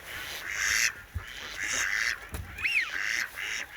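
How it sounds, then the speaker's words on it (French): Two mallard ducks flying past on a foggy evening at a hunting spot, giving raspy quacking calls with wingbeat rushes, moderately close, alone without talk. "2 canards colverts viennent de passer."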